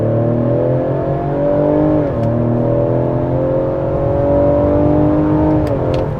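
A 2024 Ford Explorer ST engine revs up under acceleration in second gear with a strong, rising induction roar, steady and close, briefly dipping at a gear change before climbing again.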